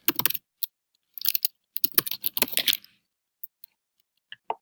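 Close, crisp keystrokes tap on a computer keyboard in quick clusters, followed by a few sparse clicks and a lone key press near the end.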